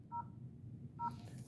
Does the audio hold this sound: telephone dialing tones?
yes